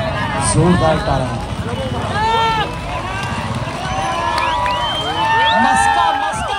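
A crowd at a Dahi Handi festival cheers and shouts loudly, dense overlapping voices and whoops filling the scene continuously from start to finish.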